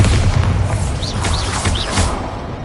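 Bombarda explosion spell cast in Hogwarts Legacy, a dull booming blast with rumbling low end and sharp chirping spell effects repeating over a steady, dense game soundscape, loud and close.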